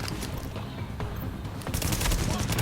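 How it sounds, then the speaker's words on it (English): Suppressing gunfire from an enemy in Tom Clancy's The Division, a dense, continuous rattle of automatic shots that swells louder toward the end, with a voice faintly underneath. "That suppressing fire he does is really bad."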